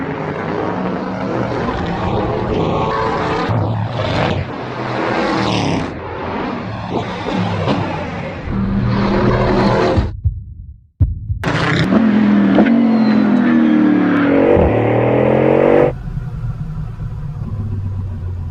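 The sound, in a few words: Bugatti Bolide hypercar accelerating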